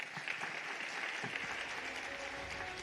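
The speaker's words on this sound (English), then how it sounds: "So a big round of applause to our panelists." Applause for panelists at a defence and security conference, a fairly quiet, steady patter of clapping from an audience, slightly distant, with no speech over it.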